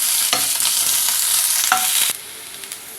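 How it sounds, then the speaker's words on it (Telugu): Onion and green chilli pieces fry with curry leaves in hot oil for a brinjal fry, a loud steady sizzle broken by scraping stirs, easing quieter near the end. "ఇప్పుడు దీనిలో ఉల్లిపాయ ముక్కలు పచ్చిమిర్చి ముక్కలు వేసుకోవాలి వీటిని బాగా ఫ్రై చేసుకోవాలి"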